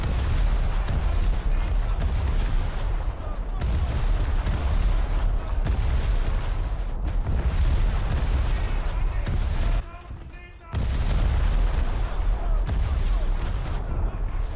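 Battleship guns firing a full salvo in a war video game make a continuous, heavy roar of booming gunfire lasting many seconds, with one brief lull near the end before the barrage resumes at full force.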